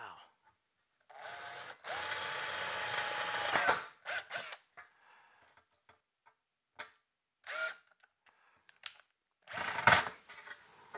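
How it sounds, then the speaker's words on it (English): A power drill with a new 1/8 inch bit whirs steadily for about two seconds, then stops, followed by brief mechanical clicks and short scraping bursts with quiet gaps between. "We come back with our 1/8 inch drill."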